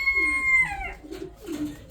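Breeding pigeons in a loft, Bakhchin and racing-homer breeder pairs, give off low throaty cooing close by, with a clear whistling tone at the start.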